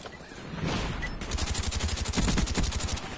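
Suppressed MP5K submachine gun in Call of Duty Black Ops, a rapid string of muffled rounds in quick succession that follows a brief rush of movement, close and without voices.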